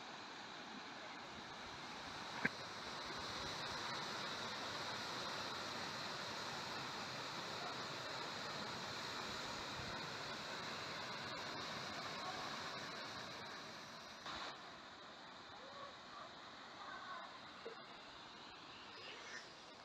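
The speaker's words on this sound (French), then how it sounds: "Et la cascade de Sanchez, on peut le voir aussi ici." A steady, dense rush of falling water from the Sanchez waterfall (cascade de Sanchez), running with little water on a mountain hike near the col d'Anaye on the France–Spain border, continuous and fairly even throughout with a single sharp tap early on.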